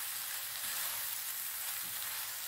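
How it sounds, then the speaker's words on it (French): Minced meat with vegetables, olives, parsley and coriander browning in a pan, a steady soft hiss of frying with faint stirring movements underneath. "j'ai laissé rissoler pendant 3-4 minutes, j'ai bien mélangé"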